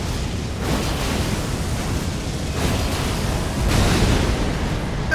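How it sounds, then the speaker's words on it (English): A big explosion in Elden Ring: Shadow of the Erdtree, at Midra's Manse, gives a loud, sustained rumbling blast of broad noise that swells and surges in waves for several seconds, with no talking over it. "That's a big explosion."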